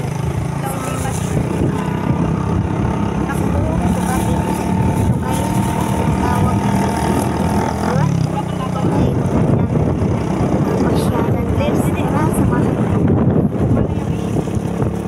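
A motorcycle rides along a road from Kalinog in Iloilo, Philippines, its engine droning steadily under heavy wind buffeting on the microphone throughout.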